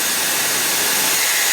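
Dyson Airwrap hair styler running on its lowest of three speeds, a steady close broadband whoosh of blown air with a slight hum, continuous and unchanging.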